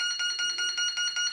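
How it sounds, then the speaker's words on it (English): A softball-sized beeping baseball made for visually impaired players gives a steady run of sharp electronic beeps, about six per second, loud and close, with no voices. "So I have here a beeping baseball."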